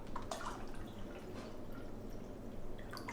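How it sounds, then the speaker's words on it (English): Water is poured from a container into chicken broth, a faint, steady trickle with a few light drips and splashes near the start. "So I'm just gonna top it up with a little bit of water."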